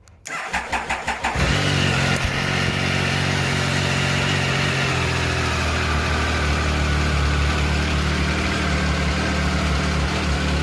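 A Triumph 1050 Tiger motorcycle engine cranks with a few rapid starter pulses, catches, and settles into a loud, steady idle close by.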